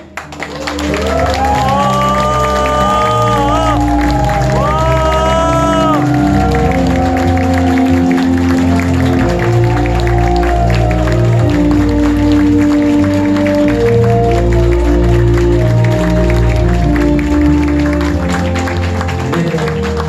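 Sustained applause from a large crowd at a memorial ceremony, steady and loud for the whole stretch, with tonal music or voices sounding underneath.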